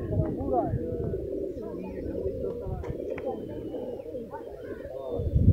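Many village pigeons coo in a dense, continuous chorus, loud and close, with occasional higher bird chirps above it.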